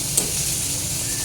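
Onions and green chillies frying for restaurant-style reshmi butter chicken, a close, steady sizzle with bright hiss, continuous and without talk.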